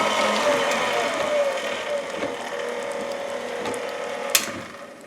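A KitchenAid meat grinder attachment runs steadily while pushing out a coarse grind of meat, a continuous close mechanical drone with ratcheting gear texture and one sharp click near the end.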